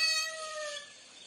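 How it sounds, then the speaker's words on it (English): A short synthetic kitten meow plays as a TikTok gift sound effect, a single bright, high tone that fades quickly. "She sent me a gift, like a kitten gift on TikTok, and it went meow."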